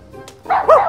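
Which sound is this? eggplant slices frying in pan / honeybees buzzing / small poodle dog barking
small poodle dog barking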